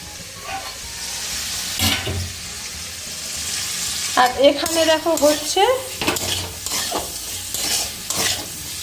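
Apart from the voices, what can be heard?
beans frying in a pan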